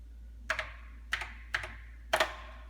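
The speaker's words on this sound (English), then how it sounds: "we can just type exit" Computer keyboard typed on in four short bursts of crisp, close clicks, each a quick pair of keystrokes separated by brief pauses over a low steady hum.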